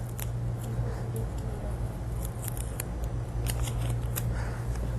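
Tape is pulled off and cut with a few sharp snips and crackles, heard close over a steady low hum.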